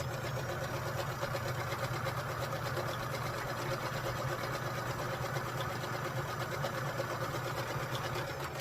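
Sewing machine stitching a quilt, a fast, steady mechanical whirring and ticking of the needle running continuously at an even pace, fairly close and moderately quiet, with no talking.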